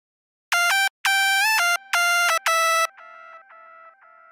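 Bright UK hardcore synth lead notes in short bursts, followed by quieter repeating ping-pong delay echoes that trail off after the playing stops.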